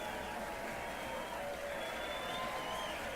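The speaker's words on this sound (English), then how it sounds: "Yes, round of applause." Audience at a ukulele society live event gives a round of applause after a ukulele performance, a faint, even patter of many hands continuing steadily with low crowd murmur.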